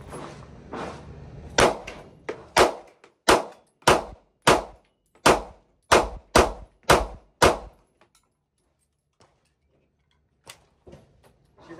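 Glock 43X and Canik Mete MC9 pistols having their slides dropped to chamber hollow point rounds: about ten sharp, close metallic clacks at a steady pace, then a pause and a couple of lighter clicks.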